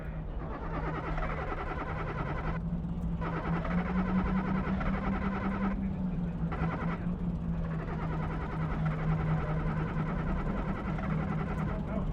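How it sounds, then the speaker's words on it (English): A BR Class 122 diesel railcar engine starts up in a train simulator, a steady low rumble with a droning hum and a few brief gaps, continuous and fairly loud throughout. "Then we have to start the engine."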